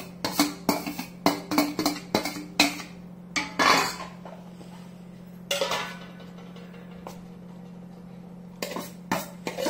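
A spoon stirring chopped Kashmiri chili, onion and tomato into dal chila batter in a bowl, a quick run of sharp scrapes and clinks, then sparser knocks after a pause, close up with a faint steady hum beneath and no voices.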